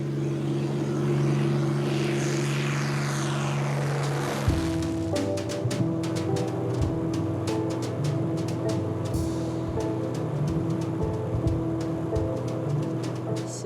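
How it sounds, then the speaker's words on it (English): A propeller airplane climbs in flight carrying skydivers in New Caledonia; a steady droning engine hum fills the cabin, then shifts to a lower rumble with rattling clicks and knocks over the rest. "While we're going up in the plane,"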